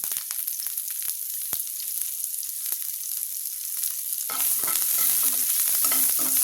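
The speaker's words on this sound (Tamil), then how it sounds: "நல்லா வதக்கிடுங்க நல்லா வதக்கிடலாங்க" Onion, chilli and curry leaves sauté in hot oil with a constant bright sizzle and occasional scraping stirs, the frying growing fuller and louder partway through.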